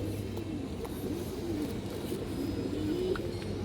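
Pigeons in a loft coo softly and repeatedly over a steady low background hum, the calls near but not loud, with no talking.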